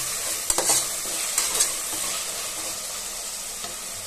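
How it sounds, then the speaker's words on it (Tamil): Tomatoes and green chillies sauté in a pan for country chicken biriyani, with a steady close sizzle and a few sharp stirring scrapes near the start, no talking. "சேர்த்து நல்லா தக்காளி வதங்குற அளவுக்கு வெயிட் பண்ணலாம்"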